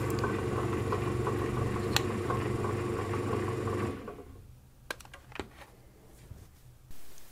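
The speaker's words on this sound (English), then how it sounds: "it stopped pulsing and it is now running at full speed" Bread machine motor converted for soup, running at full speed as a steady whirring mechanical hum with faint clicks, then cutting out after about four seconds to quieter scattered clicks and knocks.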